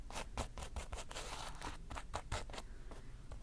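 A pen writes on paper close up in a quiet binaural setting, a steady series of short scratchy strokes with a rough, papery texture.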